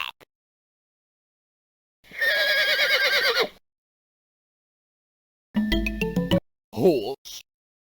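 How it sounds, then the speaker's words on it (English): Horse whinny in an English-lesson video game, one long wavering neigh standing alone, followed after a pause by short bursts of game sounds and a clipped voice. "Horse."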